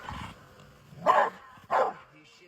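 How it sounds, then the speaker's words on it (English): A dog barks twice on command, two loud separate barks about half a second apart, following a man's brief speech at the start. "I'll tell the dog to bark."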